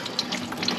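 Hydro oil trickling steadily from a loosened oil filter on a Gravely 260Z zero-turn mower, a faint, brief splashing stream like a running tap.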